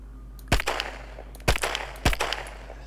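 Gunfire in the survival shooter game Will To Live Online, three sharp single shots spaced about a second apart, each followed by clicking and rattling reload sounds, loud and close over a steady low hum with no talk.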